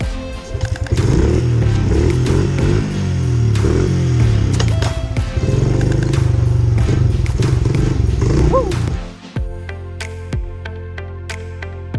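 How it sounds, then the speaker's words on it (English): A dirt bike engine runs loud and close, revving and clattering unevenly, then drops to a lower idle with distinct harmonic tones near the end. "Dirt bike. Here we go."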